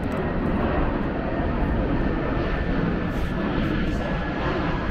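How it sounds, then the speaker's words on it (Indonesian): Steady broadband roar of an airplane passing overhead, a continuous engine drone with no talking. "pesawat"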